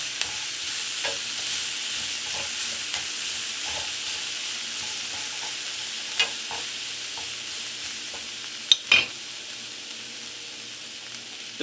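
Mongolian beef and peppers sizzle steadily in a pan while a utensil stirs them, with soft scraping taps throughout and a couple of sharper clinks near the end.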